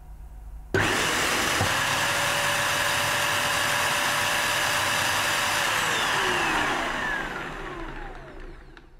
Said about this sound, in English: this EGL upright carpet washer has a very unusual scrubbing action